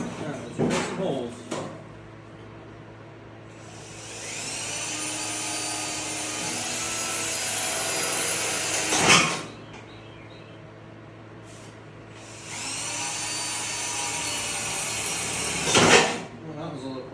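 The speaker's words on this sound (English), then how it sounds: "Let's drill some holes." A drill bores holes in the steel floor pan of a 1967 VW Beetle in two long, loud whining bursts, each ending in a sharp grinding catch as the bit breaks through. Brief knocks come before them and a pause separates them.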